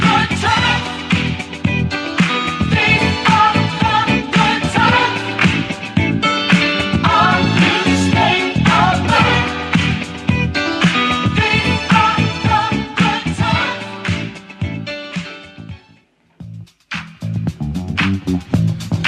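Loud, dense hip-hop music with a steady beat and layered instruments plays throughout, briefly dropping out near the end before resuming.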